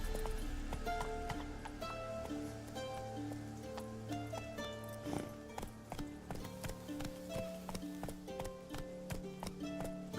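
Roach, the horse in The Witcher 3: Wild Hunt, gallops in a quick, steady clip-clop of hoofbeats over a soft musical score.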